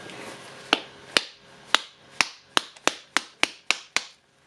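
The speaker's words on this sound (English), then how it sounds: "Let's try hammer." A hammer taps a Makita DTD153 brushless impact driver housing into place, about a dozen sharp, crisp knocks, spaced apart at first and then coming quicker, each ringing briefly, with no talking.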